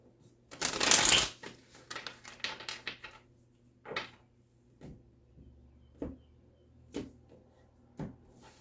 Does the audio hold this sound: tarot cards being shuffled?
yes